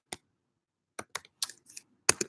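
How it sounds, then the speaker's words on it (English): Someone types on a computer keyboard, with a few sparse clicks followed by a quick cluster of keystrokes. The sound is close, crisp and quiet, with no talk over it. "Let me type it in. I'll type it in the"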